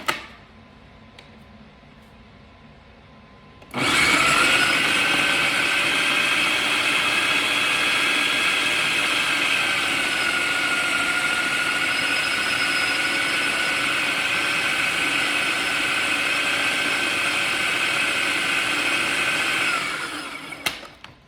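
An electric mixer with a beater whirs loudly and steadily for about sixteen seconds, blending lemon bar crust after a quiet start and cutting off near the end.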